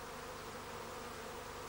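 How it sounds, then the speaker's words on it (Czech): Honeybees fan their wings over the comb to cool it, making a steady, dense buzzing drone that fills the whole moment without pause, close and even in loudness. "June se svými družkami mávají křídly jako lopatkami větráků, aby se voda odpařovala a plástve se ochladily"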